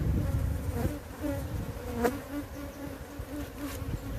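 Bees buzzing around a hive frame being built out, a dense continuous drone with some insects passing close, steady and fairly quiet outdoors.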